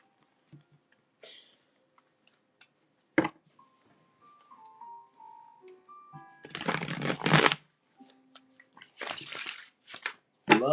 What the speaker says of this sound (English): I'm gonna shuffle these cards real quick.